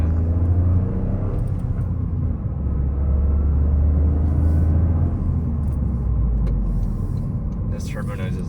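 Turbo engine of a 2024 Toyota GR Corolla heard from inside the car while driving, a loud, steady low rumble with faint whooshing on top and a passenger talking over it.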